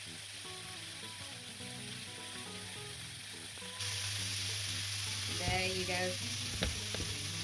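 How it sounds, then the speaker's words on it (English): Bacon sizzles steadily in a pan in its own rendered fat, a continuous close frying hiss that grows louder midway, with occasional stirring clicks and a brief spoken remark. "So I'm cooking the bacon now."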